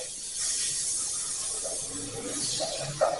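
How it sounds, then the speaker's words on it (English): A steady, loud hiss of butter sizzling in a hot pan, continuous with slight crackles toward the end. "you hear that? That sizzle?"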